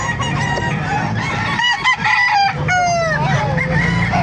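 Several roosters crow loudly at close range at a chicken market in Calumpit, Bulacan, overlapping long calls, with hens clucking and other farmyard noise underneath.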